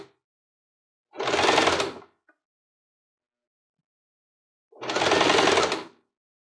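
A home sewing machine stitches a seam on a fabric mixer cover in two separate bursts of steady motor whirring, each about a second long with a quiet pause between, close and fairly loud.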